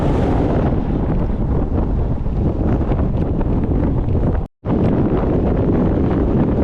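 Strong wind by an estuary in Iceland buffets the microphone in a steady, heavy roar, broken by one brief dropout of silence before the gusting resumes.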